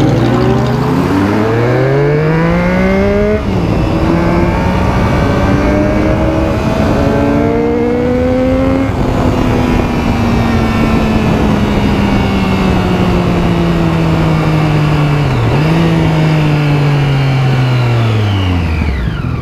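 A carbureted Honda Hornet motorcycle engine revs hard and loud close by, pitch climbing through several long pulls with brief dips between gear changes, rough and continuous with no talking.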